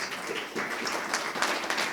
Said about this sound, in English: round of applause to our panel, please